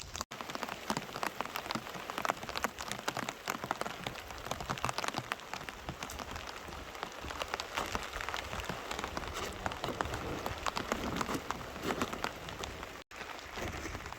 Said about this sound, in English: So now we got some good rain coming down.